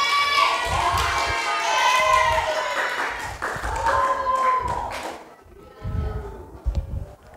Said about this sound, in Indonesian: Oke, beri aplaus dulu teman-teman